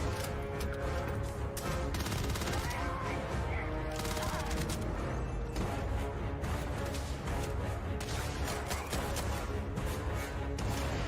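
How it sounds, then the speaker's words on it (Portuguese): Dense, continuous gunfire from an Xbox Showcase video game trailer, rapid fusillades and bursts with booms and crashes layered over a loud, full soundtrack for the whole stretch, with no pauses. "O tiro tá básico, tiro básico"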